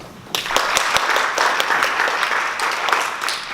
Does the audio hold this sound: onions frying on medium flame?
no